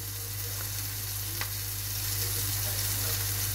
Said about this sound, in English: It's the first one sizzling away.